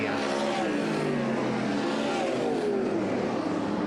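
Race cars on hot laps at Southern Iowa Speedway roar continuously and loudly, engines revving with rising and falling pitch as they sweep past the flag.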